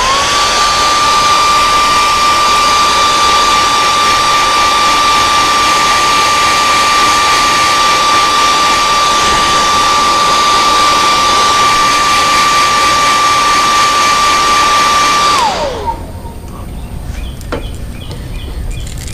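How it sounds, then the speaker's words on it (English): A heat gun heat-sets fresh paint, blowing a loud, steady roar with a constant whine for about fifteen seconds before it shuts off and winds down, leaving faint handling sounds. "I'm going to give both of these a quick heat set."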